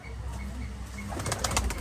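A pigeon breaks loose and flaps its wings in a quick flurry of beats near the end, after a stretch of low outdoor background noise.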